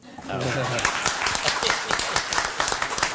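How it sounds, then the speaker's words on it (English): Applause in a city commission chamber for the announcement of a haunted pirate festival, a dense crowd clapping loudly and steadily, starting just after a short bit of voice. "Applause."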